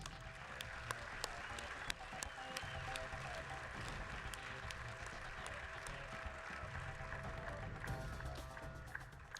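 Applause from a seated audience at the Space Technology Hall of Fame ceremony, a steady wash of many hands clapping in a large hall, with a few sharper nearby claps standing out and faint talk underneath.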